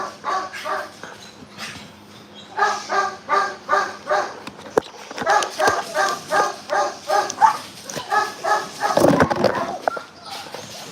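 Working dogs bark during a training session, loud and close, in a steady run of repeated barks with brief gaps, joined at times by whimpers and yips.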